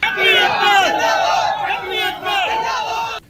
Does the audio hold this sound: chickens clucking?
no